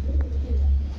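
A pigeon at a bird market coos close by, with low, throaty, rolling notes that continue through the whole second.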